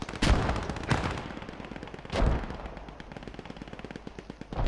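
Sustained automatic gunfire from a team in a video game ladder match, with loud bursts near 0.3, 1 and 2.2 seconds over a steady rattle of shots, with no talk.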